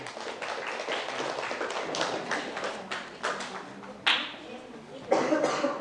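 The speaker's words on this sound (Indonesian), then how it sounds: "Tepuk tangan untuk Kagal Production" In a classroom group presentation session, scattered, uneven claps ring out for a few seconds, sparse and close, with a couple of sharper bursts toward the end.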